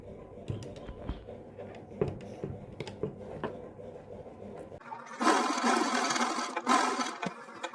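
A sewing machine stitches along piping set into a neckline, with a dense bright burst of running stitching in the second half after quieter handling and clicks.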